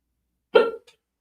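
A single sharp hiccup bursts out close to the mic, with a faint small catch just after it, in otherwise near silence.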